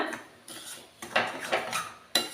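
A spoon scraping and knocking in a pan as rava kesari is stirred with sugar, five or six distinct metallic strokes in an uneven rhythm, close and moderately quiet with no talking.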